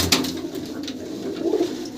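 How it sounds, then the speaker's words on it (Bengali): Punjabi tournament pigeons, females among them, cooing in low rolling calls at close range, several overlapping coos with a stronger one past the middle. "মালবাহী পায়রা হ্যাঁ পাঞ্জাবের পায়রা এগুলো"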